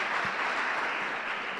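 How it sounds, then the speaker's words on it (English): Audience applause at a youth tourism summit in Jamaica, a dense, steady patter of clapping from a crowd, fairly close and even in loudness throughout the brief moment, with no voices over it. "Let's give them a round of applause."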